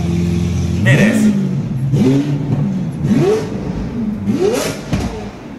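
A Lamborghini Aventador's engine revs loudly up close in four sharp blips, each rising whine climbing and falling back, while people talk excitedly over it.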